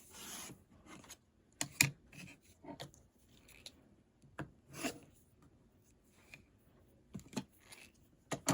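Scissors or a cutter slicing through quilt fabric patches, heard as a series of short close rasping snips and rubs, separated by quiet pauses, with soft handling of cloth between cuts.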